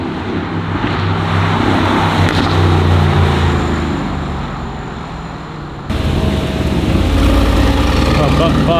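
A 2019 Aston Martin Vantage engine runs with a steady loud rumble that eases off briefly and then surges back, heard close with broadband noise throughout.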